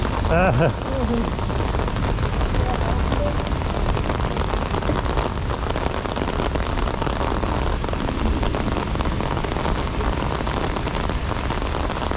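Heavy rain pouring steadily onto a surface, a dense continuous hiss and patter filling the whole stretch, with a brief voice near the start.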